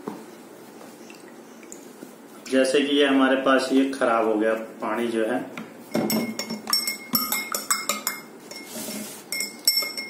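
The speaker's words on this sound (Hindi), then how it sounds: "डालने के बाद मैं इसको घोल देता हूँ, थोड़ा सा और डाल देता हूँ।" A spoon clinks against a glass while Betadine is stirred into water, with quick, light taps in the second half, heard under someone talking steadily.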